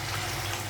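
Water pours into a cooking pot in a short, steady gush, close and even throughout.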